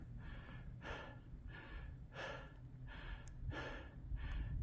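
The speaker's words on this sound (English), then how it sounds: "Sorry I'm panting because it's uphill." A hiker on an Appalachian Trail climb pants hard on a steep uphill, with about seven rhythmic, breathy gasps at roughly two-thirds of a second apart. The breaths are close and moderately loud over faint outdoor background noise.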